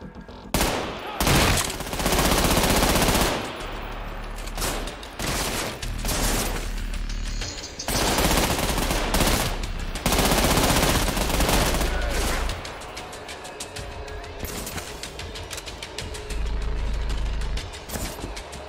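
Gunfire in the shooter video game Trepang2: dense bursts of automatic and single shots crackle loudly almost throughout, with brief gaps and a voice talking faintly beneath.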